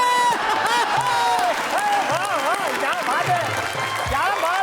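An audience applauds steadily and loudly at a Hindi comedy poetry show, with a voice speaking over the clapping the whole time.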